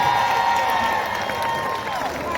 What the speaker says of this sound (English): Give a round of applause to my mother.